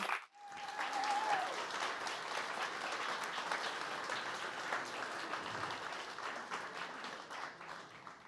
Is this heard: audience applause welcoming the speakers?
yes